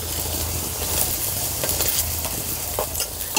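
Cauliflower paratha frying in a pan, a steady soft sizzle with faint scraping and stirring sounds throughout, no voices.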